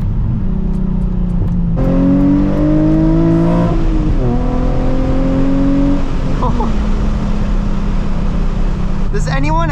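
A Nissan 350Z engine revs loud and close during a downshift, pitch climbing and dropping through several gear changes over steady road noise.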